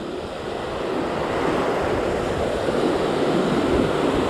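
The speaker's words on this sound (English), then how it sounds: "Little breeze." Steady surf washes against a beach jetty in Ventura County under a light breeze, a continuous broad rushing roar that builds slightly and stays loud throughout, with no voices.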